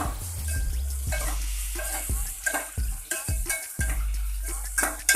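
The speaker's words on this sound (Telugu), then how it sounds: "ముందుగా ఆనియన్స్ ముక్కలుగా కోసుకొని గోల్డెన్ బ్రౌన్ వచ్చే వరకు వేయించుకోవాలి" Sliced onions fry in a pan until golden brown for a home-made chicken biryani, with a steady close sizzle broken by several thumping, scraping stirs.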